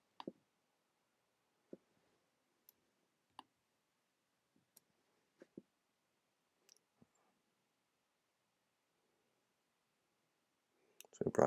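Computer mouse clicks in a quiet room, sparse single clicks spaced a second or two apart and fairly close, ending in a brief louder clatter.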